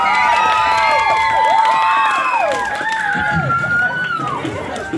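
Live concert crowd in Gulyantsi cheering, whooping and shouting, a loud continuous roar of voices with whistles and yells rising and falling, some clapping underneath.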